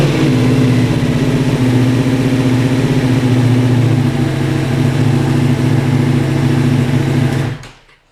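A Ducati Multistrada V4 motorcycle fitted with a new lithium battery runs at a loud, steady, close idle with an even rumbling drone for about seven seconds before the engine cuts off.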